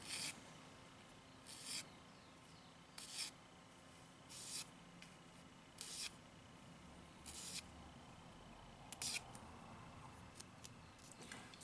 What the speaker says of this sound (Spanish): Con este pequeño exceso de plástico pueden empezar a aplicar la lima